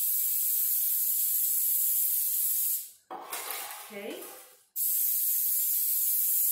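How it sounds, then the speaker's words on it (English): A steady high hiss of cooking spray on baking pans runs throughout, broken by a brief pause where someone speaks a single word, then the spraying resumes. "So what I'm going to do is go ahead and spray my pans."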